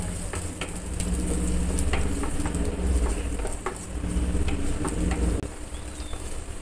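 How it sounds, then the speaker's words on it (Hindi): Chopped onions frying in a hot pan for veg atta noodles, a continuous close sizzle and crackle with scattered spatula taps as they are stirred. "गर्म हो गया, अब प्याज डाल देंगे। प्याज को थोड़ा एक मिनट के लिए सेकेंगे।"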